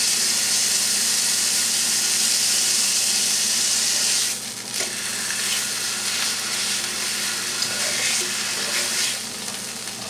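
Meat sears in a Curtis Stone grill pan with a loud, steady sizzle and hiss that eases slightly partway through, broken by faint scraping stirs.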